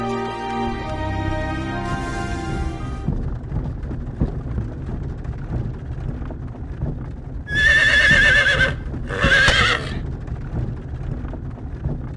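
Horse pulling a wagon in the Star Ocean video game: hooves clip-clop steadily under a music cue, then two loud close whinnies ring out near the end.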